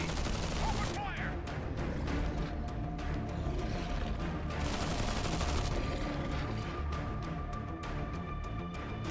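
Dense, continuous gunfire from a video game battle in the strategy game Zephon, rapid volleys and bursts layered over one another at a steady loud level, with game voice lines shouting over the shooting.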